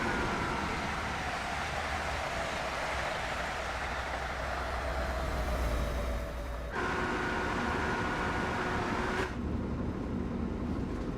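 A train rolls along in Train Sim World 2, a steady broad rumble with a low droning hum that holds for the whole stretch, shifting tone abruptly twice with no talking over it.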